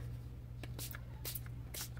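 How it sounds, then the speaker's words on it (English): Quiet hissing spray bursts from a spray bottle misting paper sheets, three or four short puffs at irregular intervals, over a steady low hum. "see how it sprays all crazy all over"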